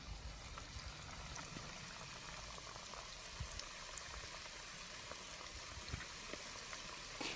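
Shredded potato pakoras bubble and sizzle in very hot frying oil, a dense, steady crackle with small pops throughout and no voices.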